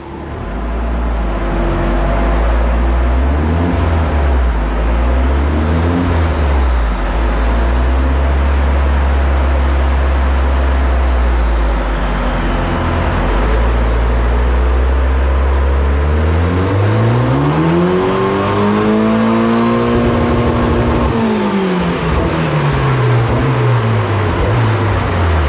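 A turbocharged Ford Fiesta with a Zetec engine runs loud and continuous on a dyno, revving up through the gears with rising pitch, then dropping back, sustained throughout.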